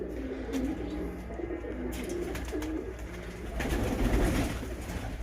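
Pigeons coo in soft, repeated throaty phrases against a low background hum, with a brief louder flurry of cooing toward the end.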